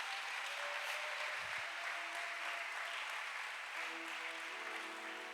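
A church congregation at a praise and worship service applauds and acclaims Jesus Christ, sustained dense clapping from a large crowd, steady and fairly loud, with faint voices and a held musical tone toward the end.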